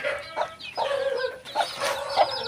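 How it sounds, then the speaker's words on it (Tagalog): Chickens cluck in short repeated calls, with young chicks peeping among them in a small backyard coop area, close and clear, no talking. "Dito naman po bagong isa na mga sisiw."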